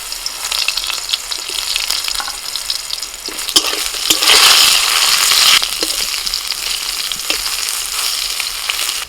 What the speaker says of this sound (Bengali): লবণ হলুদ মাখিয়ে তেলের মধ্যে বেগুনগুলোকে দিয়ে দিচ্ছি।